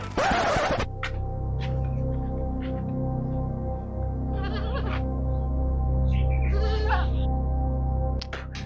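Goats grazing in a village bleat loudly and close at the start, followed by scattered fainter bleats and rustling over a constant low hum.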